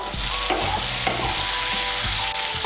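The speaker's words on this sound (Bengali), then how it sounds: "নুন আর চিনিটাকে ভালো করে মিশিয়ে নেব" Salt and sugar stirred into a soybean and eggplant curry in a pan, a spoon scraping in a few strokes over a steady, loud sizzle of frying.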